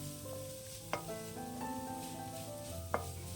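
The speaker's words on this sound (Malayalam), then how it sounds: "ഇനി ഒരല്പം കൂടി സവാള വഴന്നു വന്നോട്ടെ." Onion, ginger and curry leaves sauté in a pan for egg thoran, giving a steady soft sizzle with a couple of sharp spatula clinks against the pan and no talking.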